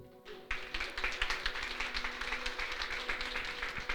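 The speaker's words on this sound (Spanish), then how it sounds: "¿Le damos un aplauso a Dios?" Church congregation breaking into applause, a sudden onset of dense, rhythmic clapping that continues steadily and fairly loud for several seconds over a low sustained hum.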